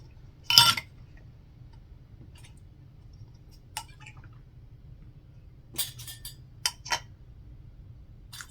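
Metal lids set onto glass canning jars filled with nectarine jam in a home kitchen, heard as a few sharp, close clinks and taps: one louder clink early, then a scattered cluster of light glassy ticks.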